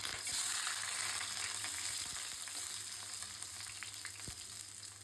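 Onions frying in mustard oil in a kadai give a steady, fairly quiet sizzle with occasional clicks and scrapes of stirring.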